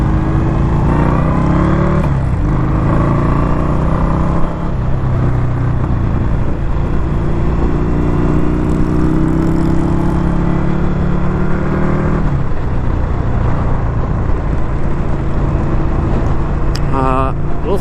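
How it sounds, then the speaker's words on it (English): A 2021 Indian Scout Bobber motorcycle pulls through low revs in gear, its engine droning and rising in pitch under wind roar, with a shift partway through and a rider talking over it. "See what this machine can do in the lower RPMs when it comes to acceleration."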